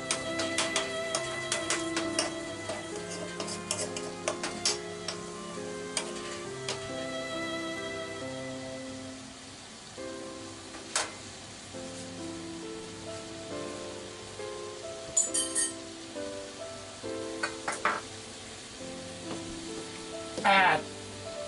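Shirataki noodles made from devil's tongue sizzle steadily in a frying pan, heard up close with intermittent stirring clatters and scrapes.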